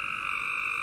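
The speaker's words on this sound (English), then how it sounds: "It's the Cope's gray tree frog." Cope's gray tree frog calling: a steady, loud, buzzy trill held at one pitch for the whole short stretch, with nothing else heard.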